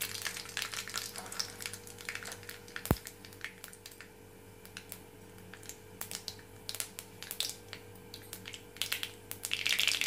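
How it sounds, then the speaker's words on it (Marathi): Mustard seeds splutter in hot oil in a kadai on a gas stove, making faint, scattered pops and crackles at irregular intervals over a low background hiss. "मोहरी तडतडलेली आहे."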